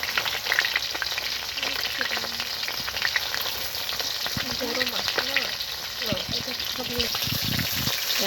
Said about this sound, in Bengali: গাইস আমার মাছ কটা ভাজা ভাজা হয়ে গেছে